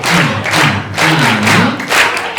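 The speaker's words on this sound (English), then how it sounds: "Can you give her a love clap?" Students at a senior secondary school giving a rhythmic group clap, loud close bursts of hand claps in short pulses with a few voices mixed in.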